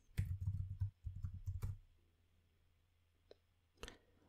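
Keystrokes on a computer keyboard as an email address is entered: a dense run of clicky taps for about two seconds, then quiet with a few isolated presses near the end, close and alone with no talk.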